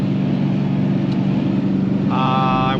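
A turbocharged Dodge Challenger SRT8 holds a steady low engine drone from inside the car on a drive, with a rising whine joining near the end.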